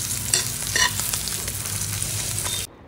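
An omelette deep frying in a pan, a steady close sizzle with a few louder pops and crackles, cutting off abruptly at the end, no voices.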